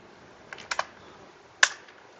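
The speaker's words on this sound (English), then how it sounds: "We're going to type in" Several quick keystrokes on a computer keyboard type a short terminal command: a small burst of clicks, a pause, then one sharper final tap, heard close and alone.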